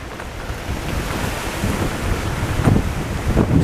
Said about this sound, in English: It's a bit windy today as well, and rainy.